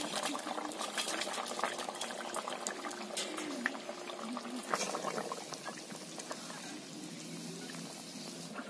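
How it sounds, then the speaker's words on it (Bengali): A village-style pot of katla fish curry with paneer, cauliflower and potato bubbles steadily, a dense continuous simmer of popping bubbles heard up close with no voices. "এবার খানিকক্ষণ ফুটতে দেবো"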